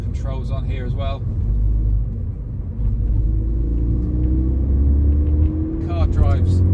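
Ford Fiesta 1.6T EcoBoost ST-2 manual petrol hatchback drives with a steady low engine and road rumble, rising slightly, while brief talk sounds at the start and end.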